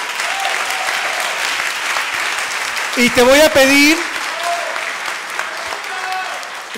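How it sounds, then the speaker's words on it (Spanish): Audience at a business opportunity meeting applauds steadily throughout, a broad wash of clapping with a voice speaking briefly over it midway. "un fuerte aplauso para ellos"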